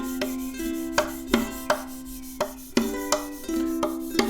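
Rhythmic rubbing strokes on a ukulele recording, a scratchy texture layered over repeating drum hits and sustained strummed chords, steady and moderately loud with no voice.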